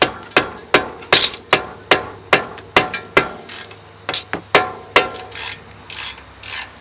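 A ratcheting wrench breaks loose a brake caliper bolt on a Honda Accord, giving a steady series of sharp, close metallic clicks roughly every half second, some paired or doubled, with no talking.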